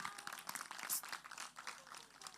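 Graduation ceremony audience applauding, a faint, crackly spread of many hands clapping continuously, heard at a distance.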